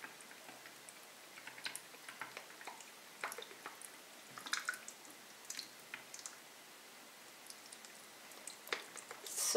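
Homemade black soap shower gel being poured into a clean, sterilized container, giving soft, sporadic wet drips and squishy plops that grow a little louder toward the end, with no talking.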